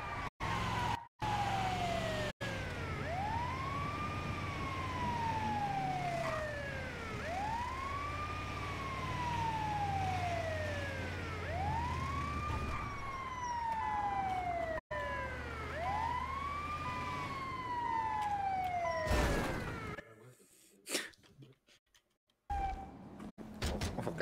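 A wailing ambulance siren in the video game GTA rises and falls in long repeated sweeps for about twenty seconds, steady and fairly close, then cuts out abruptly amid brief clicks.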